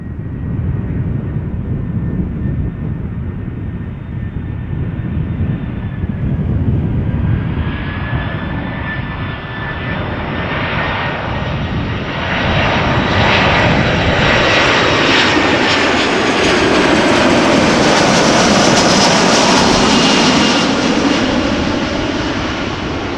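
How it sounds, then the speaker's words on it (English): A Delta Air Lines Airbus A330-300 arriving at Amsterdam Schiphol from Atlanta, a loud continuous jet roar building in strength as it passes close by, with no voices. "Delta Airlines arriving from Atlanta, Georgia, which is an A330-300."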